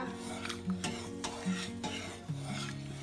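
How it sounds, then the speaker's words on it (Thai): Agar coconut pandan jelly mixture is stirred in a pot, with a spoon scraping in a slow rhythm against a steady low hum. "แล้วเราก็จะมาคนต่อค่ะรอให้เขาเดือดนะคะ"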